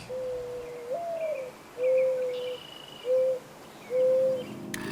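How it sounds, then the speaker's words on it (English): A mourning dove's soft, low cooing repeats in a slow phrase of several drawn-out notes, fairly close and clear over quiet background. "This is the sound of a mourning dove"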